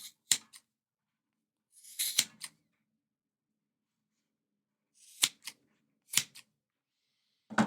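Scissors or a blade cutting through 13mm double-core rope at an angle, a few sharp, crisp snips in small clusters separated by silence, close and clear with no voices.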